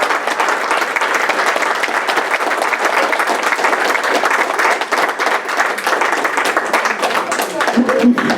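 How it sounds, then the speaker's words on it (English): An audience at a harp ensemble recital gives loud, sustained applause, a dense wash of clapping from many hands that stays strong throughout. "let's give her a really warm round of applause"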